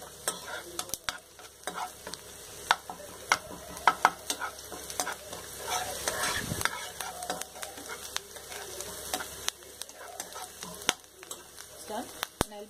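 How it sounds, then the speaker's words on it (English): Tomato-egg masala fries in a pan over a raised flame, a quiet sizzle broken by scattered scrapes and clicks of stirring. "We'll increase the flame a bit and fry a little more."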